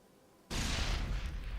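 A grenade detonates in Mass Effect: one sudden, loud blast that bursts on abruptly and rumbles on as a sustained roar without fading.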